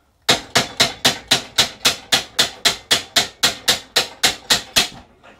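A small tapping hammer knocks an axle out of a Hayter Ranger 53 lawn mower, with about eighteen sharp, evenly spaced metallic taps struck close and loud at a brisk, regular pace.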